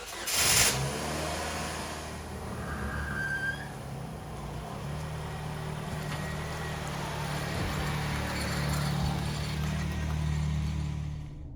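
A Saturn Vue 2.2 with a freshly replaced engine pulls out of a garage on a first test drive, its low steady engine hum and road rumble rising gently, with a brief clunk near the start and no talking.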